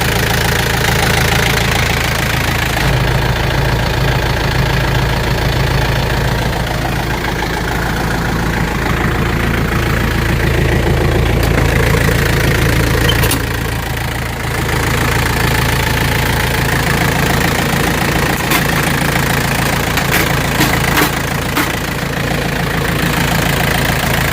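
A Yanmar EF494T tractor engine runs at idle, a loud, close, steady low rumble with a knocking chug that continues throughout with only small shifts in tone.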